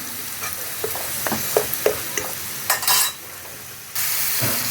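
Ground coconut paste fries in oil in a pan for a leafy dhekia-fern dish, a steady close sizzle broken by several scraping stirs, with one brief louder hiss burst midway and a stronger sizzle near the end; no one speaks.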